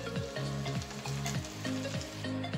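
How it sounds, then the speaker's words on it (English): Prawn hakka noodles with egg stir frying in a pan, a steady loud sizzle broken by repeated rhythmic scraping strokes of the stirring utensil. "And let's mix it and stir fry it again."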